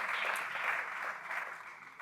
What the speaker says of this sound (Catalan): Sí, podeu aplaudir, i tant.